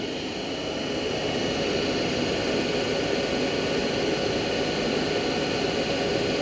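A DC shunt motor runs steadily as its speed climbs to 1520 rpm, a dense continuous whirring drone with a high whine on top, loud and unbroken throughout.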